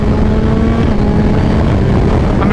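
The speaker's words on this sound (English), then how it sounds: "There we go, quick shifter down." A 2021 Kawasaki Z H2 motorcycle at speed drones loudly and close while downshifting with its quick shifter, wind roaring over a steady engine note that ends in a sharp rising blip.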